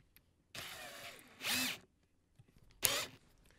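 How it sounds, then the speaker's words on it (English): Two close bursts of a power drill whining and biting through a thin aluminum pie tin, each about half a second long, separated by quiet. "we're simply going to come into the center of this pie tin and drill a hole."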